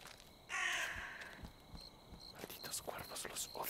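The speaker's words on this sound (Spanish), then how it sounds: "Malditos cuervos, los odio." Crows in the horror game The Cursed Forest give a loud, harsh caw close by, then quieter scattered calls, with a hushed whispering voice and soft rustling beneath.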